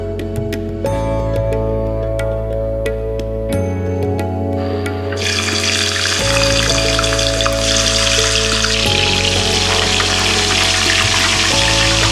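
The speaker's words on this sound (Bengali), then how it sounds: "এই মাছ কেটে নেবার পর তাতে নুন মাখিয়ে সর্ষের তেলে ভেজে তুলুন" Salted fish pieces frying in mustard oil, a loud continuous sizzle that swells and grows brighter partway through, with a low steady hum running underneath.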